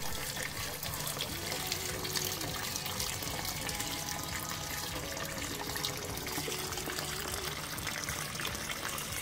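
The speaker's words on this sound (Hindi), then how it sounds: "अब इसके अंदर पानी भरते हैं।" Water poured from a tap into a bowl holding a Realme 3 Pro phone, a steady, close, continuous splashing trickle that runs unbroken the whole time with no talking.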